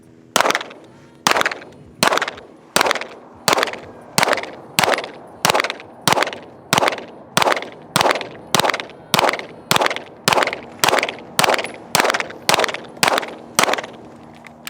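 Rifle shots are fired at a target at a measured, even pace, about twenty sharp, loud cracks spaced roughly half a second apart, each ringing briefly before the next.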